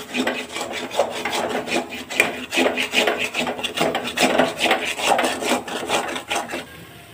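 A spoon scraping chili powder and spices around a cooking pot while making chicken curry, a rapid run of rasping, rubbing strokes in an uneven rhythm, close and clear with no talking.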